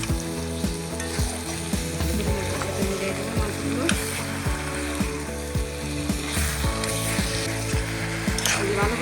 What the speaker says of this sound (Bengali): এই যে এখন আমি মাংসগুলো মশলার মধ্যে দিয়ে দিচ্ছি মশলার মধ্যে দিয়ে এই মশলার সাথে কষাবো